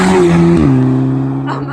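Audi S3 saloon engine revving loudly up close, a strong held tone that drops in pitch and settles into a steady drone, then eases off toward the end.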